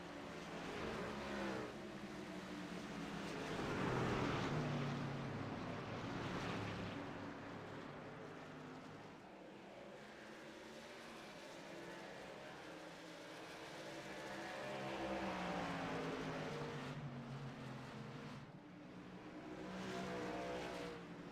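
Racing truck engines roar continuously at New Hampshire as a trio of trucks battles late in the race, loud and close with rising and falling revs and passing swells, no talk.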